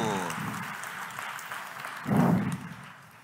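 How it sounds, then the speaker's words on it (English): Brief applause from a tech conference audience, moderate clapping that swells in a short burst near the end before tapering off. "Let's applaud them once more time."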